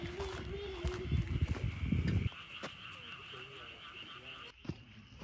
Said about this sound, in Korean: 개구리 소리 들리죠?